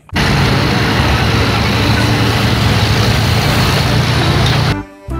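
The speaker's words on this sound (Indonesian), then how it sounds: "Mobil jeep militer." A loud, rumbling toy military jeep engine sound effect runs continuously at a steady level before cutting off, followed by a short burst of noise.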